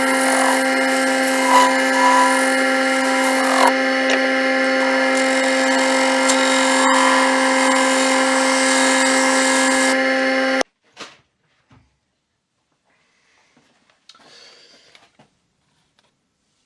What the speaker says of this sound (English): Okay, so we're over on the lathe now.